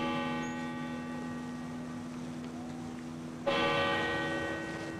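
A church bell tolls with a long, humming ring that fades slowly, then a fresh strike sounds, resonant and somewhat distant.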